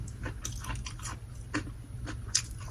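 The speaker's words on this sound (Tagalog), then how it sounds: "Kainin ko yung mga garlic" Garlic being bitten and chewed during a mukbang meal of pakbet and chicken feet, close crisp crunches in an irregular rhythm, heard alone.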